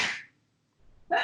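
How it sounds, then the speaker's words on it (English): Two sharp, close sneezes burst out, one at the start and one at the end, separated by a brief quiet breath. "Ooh, those are big sneezes."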